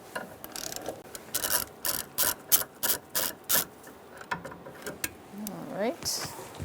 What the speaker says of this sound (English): using an extension and a 14mm socket, we're going to loosen up our